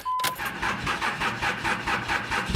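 A Cummins 5.9 diesel truck engine in a 1000HP build cranks and fires on a cold start, then settles into a loud, rough, pulsing idle close by, with a rhythmic clatter that ends in a sharp burst.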